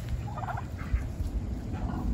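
Several turkeys gobble in bursts inside their newly built turkey house, overlapping rapid warbling calls at moderate distance over a low rumbling background.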